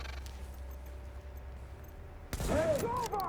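Gunfire in a video game erupts suddenly after a quiet, low hum, a loud burst of rapid shots with ringing, echoing tails lasting about a second.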